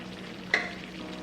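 Crushed garlic drops into a pot of veggie chunk brown stew with a soft splat, then sizzles and is stirred quietly and close, with no talk.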